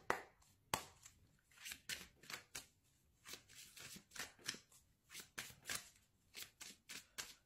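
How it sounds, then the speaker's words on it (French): A deck of oracle cards is shuffled by hand in a quiet room, producing a series of crisp riffling bursts and soft slaps in an irregular rhythm, close and clear, with no voices. "On va utiliser l'oracle de la triade pour tirer les cartes."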